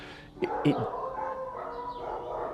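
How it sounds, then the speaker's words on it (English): Dogs bark off in the distance, a couple of sharp yaps near the start followed by fainter overlapping barking from a crowd of dogs, all behind a voice talking nearby. "the dogs are barking again"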